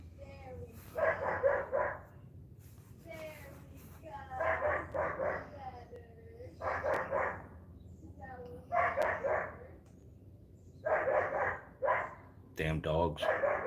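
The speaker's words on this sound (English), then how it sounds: "Damn dogs." Several dogs bark in repeated bursts of rapid, overlapping yaps and bow-wows, moderately distant from a garage, with quiet gaps between volleys.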